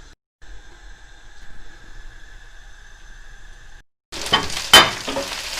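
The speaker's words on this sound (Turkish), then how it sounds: "Çünkü biliyorsunuz biberler çok çabuk kızarır. Kızarmaya başladı bile." Peppers for biber sote fry in a pan, a faint hum giving way to a sudden loud sizzle with a sharp crackling burst near the end, no talking.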